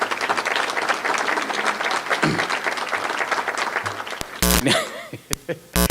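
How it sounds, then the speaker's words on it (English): An audience at a State of the Economy event gives a round of applause that continues steadily for several seconds. Abrupt knocks and a few coughs or throat-clearing sounds break in as the clapping dies away. "Give him a round of applause."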